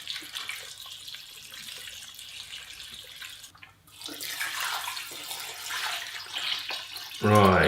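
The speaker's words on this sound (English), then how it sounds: "the only thing left to do is fill it up with water" Tap water gushes steadily into a stock pot in a home kitchen, a continuous close rush that briefly drops out and then returns brighter and fuller as the pot fills.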